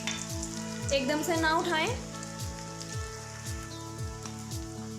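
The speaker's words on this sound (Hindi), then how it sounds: "तेल गर्म हो चुका है, अभी हम फ्राई करते जाएंगे।" Poha fingers fry in hot oil with a steady, close crackling sizzle and bursts of bubbling throughout, while a voice speaks briefly over it.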